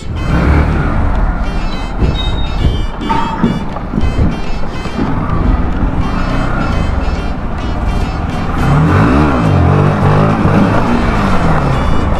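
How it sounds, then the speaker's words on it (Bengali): Bajaj Pulsar NS 160 motorcycle on a test ride after servicing, its engine droning loudly and steadily with strong wind rush over the microphone, revving up and rising in pitch near the end. "এখন আমি একটা টেস্ট রাইড দিয়ে আসি, দেখি বাইকটা সার্ভিস কেমন হয়েছে।"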